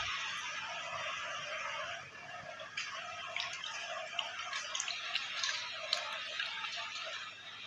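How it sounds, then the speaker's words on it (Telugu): Water poured off washed, peeled potatoes, heard as faint, scattered drips and small splashes with soft clicks, a quiet trickle without voices. "ఆ వాటర్ని అయితే వంపేస్తున్నాడు"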